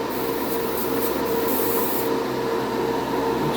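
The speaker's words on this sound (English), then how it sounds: "See how this stuff sprays out." A spray gun atomizes thinned craft acrylic paint in a steady, continuous hiss with a faint mechanical hum beneath, close and fairly loud throughout.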